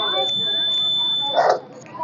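A science-fair handicapped-switch project's buzzer gives a steady high electronic tone throughout, with a brief rougher burst near the end and faint room noise beneath.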